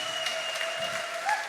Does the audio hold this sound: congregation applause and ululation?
yes